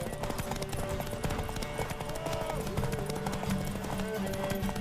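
Horse hooves clip-clop steadily in The Witcher 3 game, a continuous rhythmic trot under dense ambient game noise, with voices talking over it.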